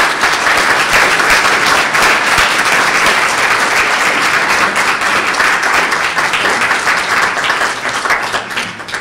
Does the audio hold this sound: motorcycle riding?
no